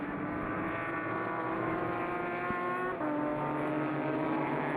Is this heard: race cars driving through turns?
yes